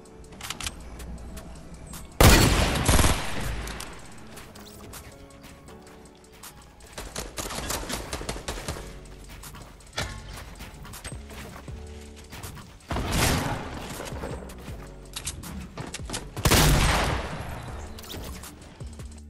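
Heavy shotgun blasts in Fortnite boom out as a few spaced, loud single shots, separated by quieter stretches of game sounds and movement.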